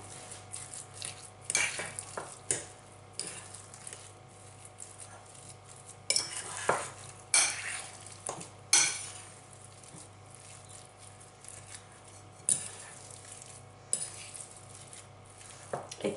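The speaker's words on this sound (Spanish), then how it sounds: "ahora voy a añadir el medio kilo de carne picada, lo voy a integrar con la patata" Half a kilo of minced meat is stirred into potatoes in a pan, with scraping utensil strokes and clinks of metal on the pan over a steady low sizzle, in irregular bursts with quieter gaps.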